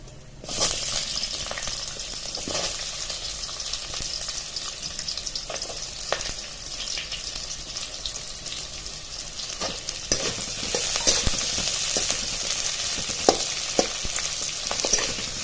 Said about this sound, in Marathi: थोडस लालसर झालं की लगेच त्यामध्ये कांदा टाकून घेणार आहोत